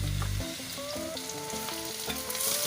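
Chopped tomatoes hit a pan of onion, garlic and ginger browning in oil, giving a loud burst of sizzle at first that settles into a steady frying crackle with faint utensil clinks, no voices.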